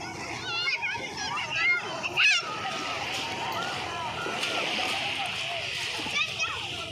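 Busy crowd at a beach shore in Dinahican, Infanta, with many people and children chattering, calling and splashing in the water close by, a constant murmur of voices and shouts rising and falling throughout.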